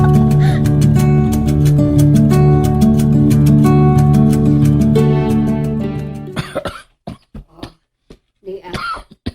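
A person coughs in several harsh, close bursts in quick succession, following a sustained loud tonal sound that cuts off abruptly.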